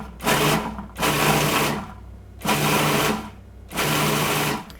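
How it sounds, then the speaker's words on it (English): Food processor pulsing cauliflower into coarse crumbs, four loud whirring bursts of about a second each separated by short pauses, close to the microphone with no talking. "I want to pulse this cauliflower down, break it up until it has the consistency of maybe a little bit coarser than cornmeal"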